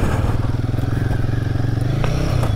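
A Royal Enfield Guerrilla 450 motorcycle rides on dirt, its engine a steady close loud thrum throughout with light gravelly clatter and scraping underneath.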